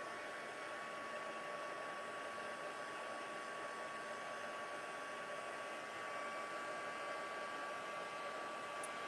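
A heat tool blowing on crafting cardstock, a steady close whirring blast of air with a faint whine, unbroken for the whole stretch, no speech.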